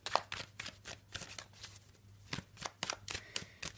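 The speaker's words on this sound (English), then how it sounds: "let's give the cards a bit of a shuffle" Tarot cards being shuffled by hand, close and quiet, a series of soft riffling bursts and taps with short pauses between them.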